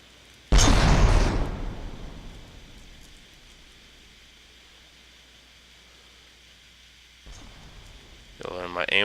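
A single heavy cannon blast in the Caroleans video game booms loudly and then trails off in a long, hissing rumble that slowly fades, with another burst of noise at the end.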